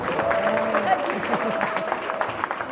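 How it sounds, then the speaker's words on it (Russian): At a school alumni reunion, the audience claps for the class of 1967, a moderately loud round of applause mixed with voices talking and murmuring in the room throughout. "Аплодисменты."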